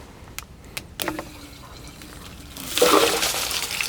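In a garden in southern Chile, water runs through an opened irrigation water filter, starting with a few scattered clicks and drips and then swelling into a louder, steady rush of flowing water.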